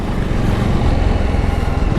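Fuel-injected Jawa 42 Bobber motorcycle engine running steadily up close, a continuous loud low rumble with a busy, even texture and no talk.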